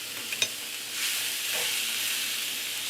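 Beef and peppers for Mongolian beef sizzle steadily in a hot pan while being stirred, a continuous close frying hiss with a couple of brief scraping clicks near the start.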